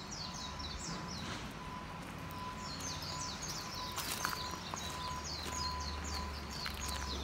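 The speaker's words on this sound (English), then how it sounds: "it's some bird making some sound" Small bird in a Hawaiian forest giving repeated high chirping calls in short bursts, fairly faint over a steady hiss of wind and rustling leaves.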